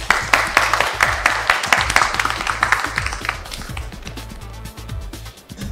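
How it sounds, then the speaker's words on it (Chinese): An audience claps for actors on a stage, a lively ripple of applause that is loud at first and then thins out, with music playing beneath it. "让我们响起掌声"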